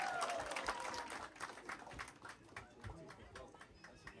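A crowd breaks into lively applause for a provincial prefect at a community event in Toñampari, Pastaza, a dense patter of clapping with a voice talking loudly over it in Spanish.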